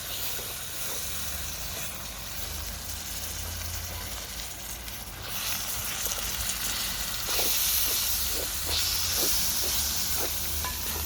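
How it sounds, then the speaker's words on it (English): Spices being stirred in a pot for Durban crab curry, a steady hissing sizzle with occasional scraping strokes of the spoon, growing slightly louder and brighter toward the end, no voices over it. "Then I stir."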